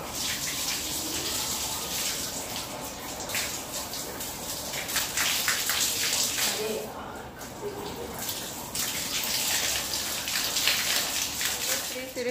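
Water running steadily from a tap into a tank at home, a continuous hissing gush that stays near and fairly loud for the whole stretch, with faint background activity.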